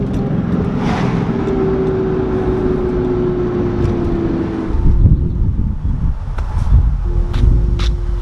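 A car drives along the road, heard from inside as a steady engine and road rumble with a faint whining tone, growing rougher and bumpier toward the end.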